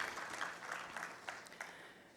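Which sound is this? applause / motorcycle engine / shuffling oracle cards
applause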